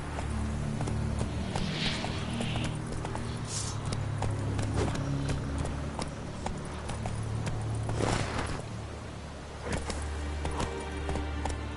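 Roach, the horse in The Witcher 3, moves at a steady pace with continuous rhythmic hoofbeats throughout, layered over sustained low game music.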